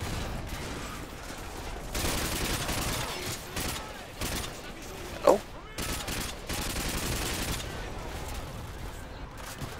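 Gunfire from the video game Call of Duty Modern Warfare 2 crackles in dense bursts through most of the stretch, with one sharp louder shot near the middle, all at a steady close level.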